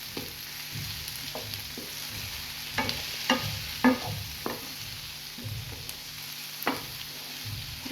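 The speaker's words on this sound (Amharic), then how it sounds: "እናማስለዋለን።" Onions and cauliflower sizzle in a frying pan for burritos while a spoon stirs them, giving a soft continuous crackle broken by scattered scraping clinks, close by, with no talk.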